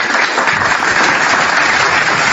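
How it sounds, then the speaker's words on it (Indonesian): Loud, brief applause from an audience: a burst of dense, overlapping clapping that stays full and even for a couple of seconds. "Tepuk tangan untuk itu."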